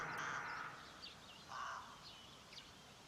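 Crows around their nests in a tree give a few faint, distant caws spaced across a few seconds over a quiet outdoor background.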